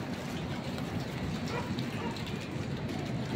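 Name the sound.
heavy rain falling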